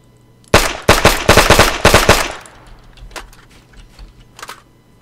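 Rifle gunfire in the World War II Japan-versus-US mod of ArmA 3: a loud, close burst of rapid sharp shots, then scattered quieter and more distant reports, with no talking.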